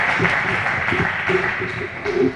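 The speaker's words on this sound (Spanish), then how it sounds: "Un aplauso." Crowd applause at a mare event in a Spanish country setting, a dense, steady wash of clapping that holds for a couple of seconds with a few louder bursts near the end.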